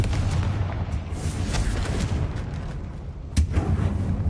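Confringo fire-blasting spell in the Hogwarts video game, a dull rumbling boom followed by roaring, crackling blast noise and a sharp burst near the end, loud and close.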